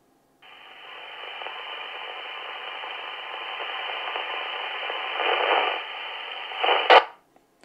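Repeater audio coming through a Quansheng TK11 handheld radio indoors: a steady band-limited hiss and carrier noise lasting several seconds, swelling slightly, then cutting off with a short squelch burst at the end.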